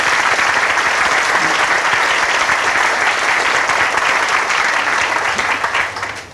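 Crowd at the Kentucky History Center groundbreaking ceremony in 1995 applauding, a loud, dense and sustained wall of clapping that tapers off at the very end.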